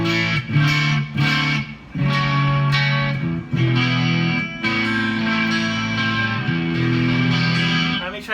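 A homemade electric guitar built as a tribute to the guitar "the Doctor #2", with a TMG 81 pickup, rings out sustained chords and notes on a clean amp channel, with noticeable echo trailing each strum.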